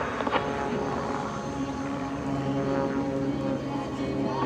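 An aerobatic airplane's engine runs at full power during a climb at an air show, a steady, loud, droning propeller roar that fills the whole stretch without a break.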